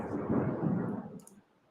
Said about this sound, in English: Yeah, it's a beauty of a storm.